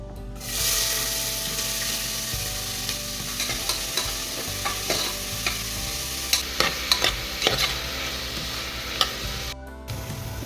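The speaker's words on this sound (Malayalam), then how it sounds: "മീൻസ് സവാള നന്നായിട്ട് ഫ്രൈ ആയിട്ട് റെഡി ആയിട്ടുണ്ട്" Two medium sliced onions frying in a pan, a steady close sizzle with occasional scraping stirs and small pops throughout, no voice over it.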